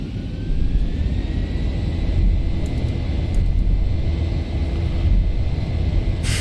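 Boeing 737 jet engines in the X-Plane 11 simulator spool up to takeoff thrust, a steady roar with a rising whine that climbs then holds, continuous and fairly loud with no talking.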